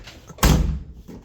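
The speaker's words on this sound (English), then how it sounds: "I hate this door. I need to adjust the striker" A Volkswagen Corrado car door with a poorly adjusted striker slams shut in one loud, close thud, preceded by faint background noise.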